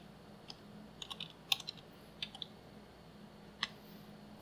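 Sparse, quiet keystrokes on a computer keyboard click in small irregular clusters at close range over faint room hum, with no talking.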